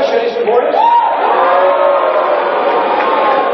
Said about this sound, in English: Judging by the boos,